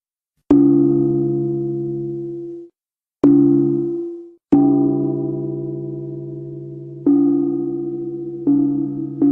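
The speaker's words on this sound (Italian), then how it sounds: "Gong." A gong is struck five times in sequence, each hit loud and close with a metallic, bell-like ring that decays before the next blow. The later strikes come closer together and overlap.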